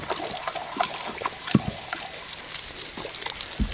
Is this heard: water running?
yes